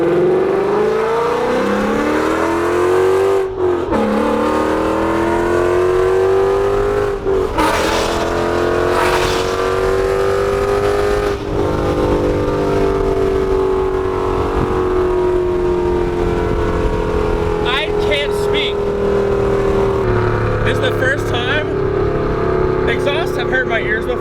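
A 2016 Mustang GT with headers and a Corsa Extreme catback exhaust rumbles loudly and steadily, its engine pitch rising and falling through revs with brief sharp bursts, under occasional talk.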